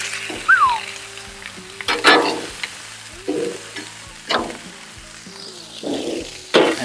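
Tortillas and ground meat for cheeseburger quesadillas sizzle steadily on a hot outdoor griddle, with intermittent scraping and flipping clatters from a spatula; no one speaks.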